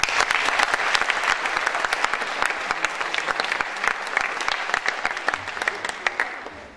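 A crowd at a football awards party in Constantino claps steadily and loudly, a dense sustained round of applause with no break.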